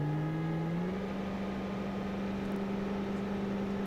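A steady, low, droning diesel-like car engine in the video game BeamNG hums at near-constant pitch, its tone stepping up slightly once, close and fairly loud with no talking.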